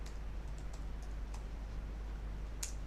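Keys clatter on a computer keyboard in short bursts of clicks as a networking command is entered, faint and close over a steady low electrical hum.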